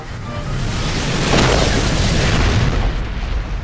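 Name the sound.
explosion in action movie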